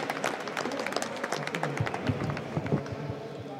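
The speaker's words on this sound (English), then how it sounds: "A big applause to AirMarker." An audience applauds a pitch team at an event, with a steady patter of many hands clapping at moderate distance that continues through the whole stretch before thinning slightly.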